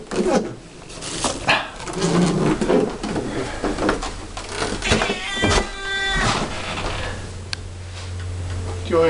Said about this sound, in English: But stop petting the friendly cat and hear him meow and howl.